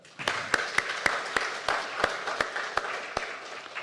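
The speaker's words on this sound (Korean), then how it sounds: "미리 박수 한번 할까요?" A church congregation claps during a Sunday worship service, a spread of individual hand claps at an uneven rhythm for a few seconds, moderately close and fairly quiet, with no talk over it.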